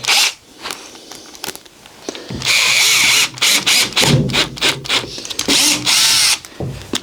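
A compact Bosch GSR 12V-15 FC FlexiClick 12V drill/driver whirs close and loud in several short bursts of varying length, a few start-stop pulses after a quieter lead-in, with no one speaking.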